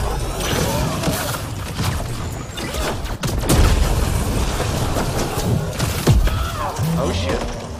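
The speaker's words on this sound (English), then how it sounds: "Yep, something's definitely shooting me" Gunfire rakes the player in the Mass Effect Andromeda video game, a heavy stream of booming, thudding shots and impacts over a rumbling background, with a couple of sharper bursts.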